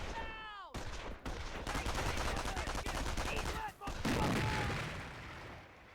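Automatic machine gun fire in the Company of Heroes strategy game, a dense sustained rattle of rapid shots with booming impacts, loud and continuous with a brief gap near the end.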